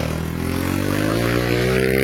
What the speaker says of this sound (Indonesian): Pakai motor ini nih, SE nih.